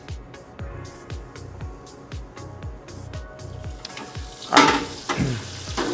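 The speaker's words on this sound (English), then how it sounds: "And then into the fryer we go." Batter-coated pieces drop into a deep fryer of hot grease near 370 degrees, giving a loud burst of bubbling sizzle after a string of rhythmic metallic clicks and taps, steady and close with no talking.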